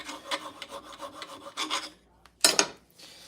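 Rhythmic rasping strokes of sanding on a metal knife blade, a steady run of scrubbing passes, then a pause and a short louder scrape near the end.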